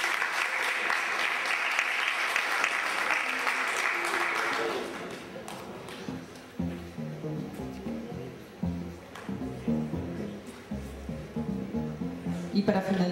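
An audience applauds at a recognition ceremony, a dense burst of clapping for several seconds that fades as music with steady notes and beats takes over, clapping continuing faintly underneath.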